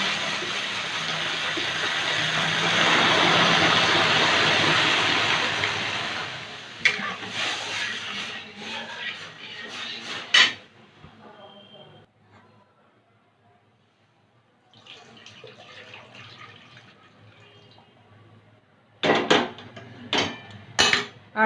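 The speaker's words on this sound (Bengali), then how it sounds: "এখন ডালটা ধুয়ে নেবো" Fried moong dal being rinsed in water, with a broad splashing, sloshing wash for several seconds, then quieter clinks and scrapes of a pot and a few sharp knocks near the end.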